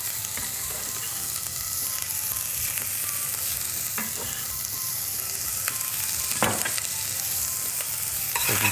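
Onion fries in a pan with a continuous close sizzle, while a utensil stirs and scrapes it with occasional clicks and knocks.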